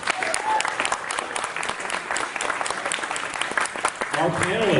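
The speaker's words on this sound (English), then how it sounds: "give a round of applause for Dr. David Hollander" Audience applause for a panelist at a climate change panel discussion, sustained dense clapping from a crowd with a voice rising over it near the end.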